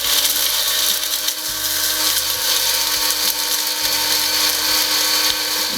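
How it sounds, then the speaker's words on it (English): A blender or electric grinder runs loudly and steadily while pulverizing boiled eggshells into calcium powder, giving a harsh continuous whir with slight rattling shifts in pitch throughout. "then we will grind them down into calcium powder"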